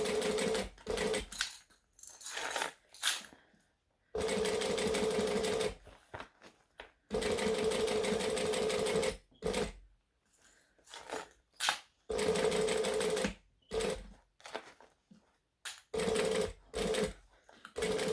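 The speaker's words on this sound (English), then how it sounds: "So I'm stitching around slowly." A sewing machine stitches slowly around a small bag in bursts, its motor whirring for several seconds at a time between quiet pauses, close by and with no talking.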